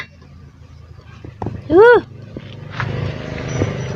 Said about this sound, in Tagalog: Ang aso.